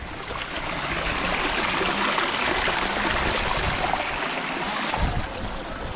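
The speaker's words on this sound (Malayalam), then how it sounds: "ഇവിടെ ചെറിയൊരു അരുവിയുണ്ട്" A small stream of snowmelt water near Pahalgam rushes and babbles continuously at close range, a dense, even wash of running water with no voices.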